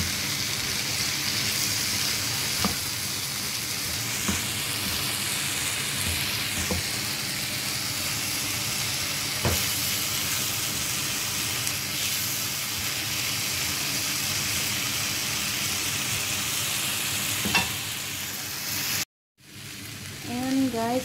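Bitter gourd frying with salt in a pan, a steady close sizzle broken by intermittent spatula clinks and stirring scrapes, with faint speech at times and a brief cut of silence near the end.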